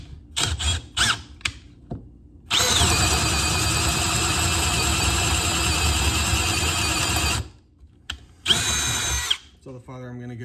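A Milwaukee M12 Gen3 hammer drill on speed 1 bores with a 1.5-inch spade bit: short bursts, then a loud, steady whirring run of about five seconds, a pause, and another brief burst, close by.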